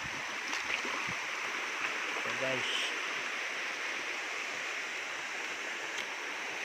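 A flowing stream at a hillside rest stop, its steady broadband rush filling the whole scene close by, with someone speaking briefly over the water.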